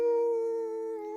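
A crowd of audience members holding one long, sustained howling "woo," its steady tonal wail resembling a pack of dogs, loud and unbroken with no talk over it.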